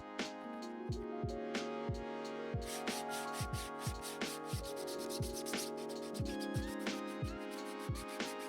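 Sandpaper wrapped on a sanding sponge rubbing over a 3D printed Green Goblin helmet, rhythmic back-and-forth scraping strokes about two per second, close and scratchy, continuous throughout.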